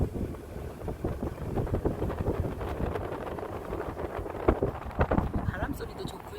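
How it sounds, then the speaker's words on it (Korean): Wind gusts along a countryside road lined with hibiscus trees on the way to the Hoesan white lotus pond in Muan, a rough blustery rumble buffeting the microphone in uneven surges. "바람 소리도 좋고요."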